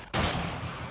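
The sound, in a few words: shotgun firing in 7 Days to Die video game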